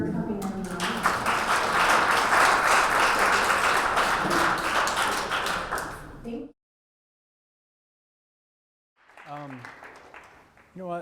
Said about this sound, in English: big round of applause for them for coming, everyone.